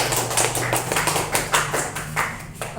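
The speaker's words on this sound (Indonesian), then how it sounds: "Oke, berikan tepuk tangan buat kelompok" Classroom applause for a student group, with close, crisp hand claps in an uneven rhythm, several hands mixing loudly, while a low steady hum runs underneath and no one talks.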